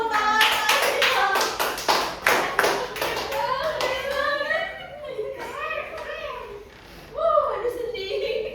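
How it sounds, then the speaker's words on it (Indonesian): Classroom audience clapping for a student presenter during a microteaching session, a short burst of uneven hand claps from a small group mixed with children's voices, followed by talk. "Beri tepuk tangan Asyifa."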